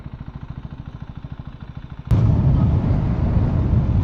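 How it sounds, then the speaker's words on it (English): A 2024 KTM 390 Duke motorcycle engine idles with a steady, rapid exhaust putter, then a sudden loud burst as the throttle opens into a rougher, louder roar. "probably you guys can note the exhaust sound now"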